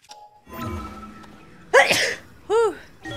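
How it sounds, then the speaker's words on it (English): A sharp, loud sneeze bursts out, followed moments later by a second shorter burst, over a quiet background of faint tones. "Sorry, I had to sneeze."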